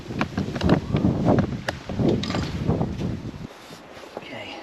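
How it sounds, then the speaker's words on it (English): Steady wind buffeting the microphone with rumbling gusts and some rattling, fading slightly near the end. "A bit windy today."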